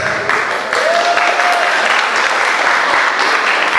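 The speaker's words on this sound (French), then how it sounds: "on pourrait applaudir" An outdoor crowd at a Fête nationale celebration in Saint-Calixte breaks into loud, sustained applause, many hands clapping densely and close throughout.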